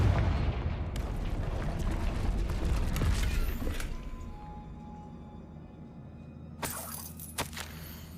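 A Confringo spell blasts a barrier in the Hogwarts Legacy video game: a loud, rumbling explosive burst that fades over a few seconds, followed by a sharp crackling impact near the end.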